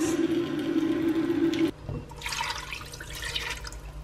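Water is poured into a pot of marinated chicken to loosen the marinade, a steady splashing pour for under two seconds that gives way to a softer trickle and bubbling.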